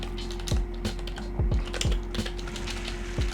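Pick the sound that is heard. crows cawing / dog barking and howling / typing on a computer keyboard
typing on a computer keyboard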